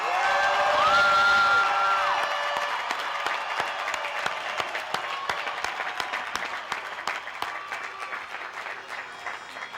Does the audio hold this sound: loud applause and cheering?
yes